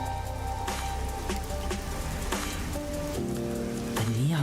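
Rain from the video game Master Detective Archives: Raincode falls in a steady patter on surfaces in a busy city district, under faint tonal game sounds.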